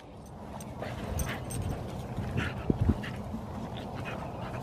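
A pit bull breathes loudly and heavily up close, a steady rough huffing with a few soft knocks and scuffs mixed in.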